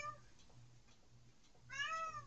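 A cat meows faintly a couple of times, with a louder, higher drawn-out meow near the end over a low background hum.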